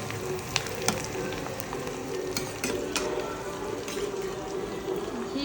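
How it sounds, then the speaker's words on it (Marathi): Edible gum (gond) fries in hot ghee for winter laddus, giving a dense, continuous sizzle and bubbling. A few brief scraping stirs break through the steady frying noise, and there is no talking. "आपण हा डिंक तुपामध्ये तळून घेतलाय"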